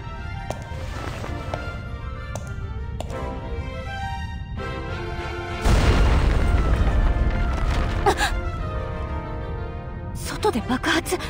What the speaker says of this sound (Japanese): 外で爆発？